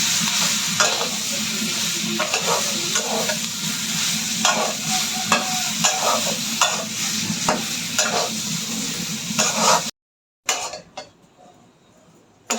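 Raw banana chop mixture being stirred and mashed in a pan with a spoon, steady scraping strokes repeating roughly every second, close and fairly loud, with a brief silence near the end followed by a few clinks.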